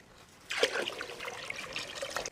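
Water trickles and splashes briefly into milk, a close, fairly quiet pour that starts abruptly and runs for about two seconds.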